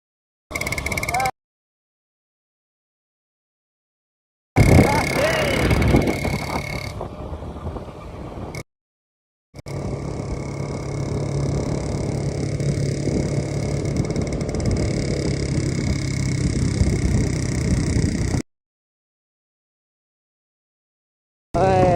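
A motorcycle engine runs steadily at close range in a rural outdoor setting during a funeral gathering, its droning hum sustained for several seconds between abrupt gaps in the sound.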